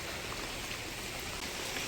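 Light rain falls on greenery near Thangassery Lighthouse, a soft, even patter with no talk over it.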